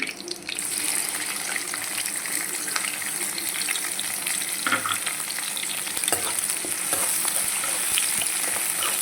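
Green chillies and onions fry in a pan for a curry with a loud, continuous sizzle, broken by a few scraping stirs and a brief clatter partway through, and no speech.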